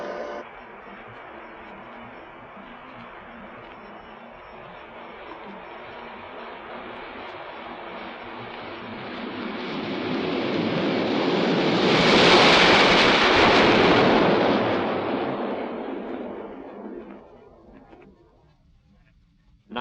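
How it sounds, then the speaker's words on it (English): A North American F-100 Super Sabre jet takes off, its roar building steadily from a distant whine to a loud, broad blast that peaks and then fades quickly as it passes away. "The Super Sabre has taxied down to the end of the runway and is now waiting permission from the control tower to take off."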